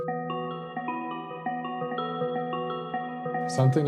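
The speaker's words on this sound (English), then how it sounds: "first I used this bell sound" Soft bell tones play a slow, slightly loose melody of repeated notes, quiet and clean, ending with a brief burst of other noise.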